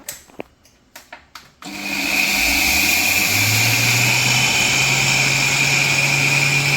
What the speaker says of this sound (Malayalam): ഇത് നന്നായിട്ട് മിക്സിയിൽ ഇതുപോലെ ഒന്ന് അടിച്ചെടുക്കണം കേട്ടോ